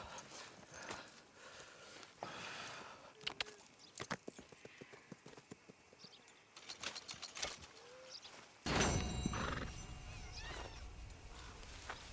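Horse hooves clip-clop along at a steady gait in the Red Dead Redemption video game, with a soft game ambience and an occasional snort; the scene grows louder and fuller near the end.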